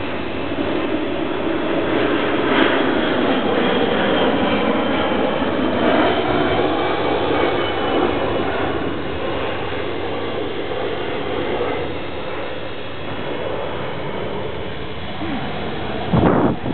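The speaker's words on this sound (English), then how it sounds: "You can see the chain and sprocket in operation." Electric hub motor bolted to the front forks of a converted mountain bike, driving the chain and sprocket with a steady whirring whine and mechanical rattle, then a brief knock near the end.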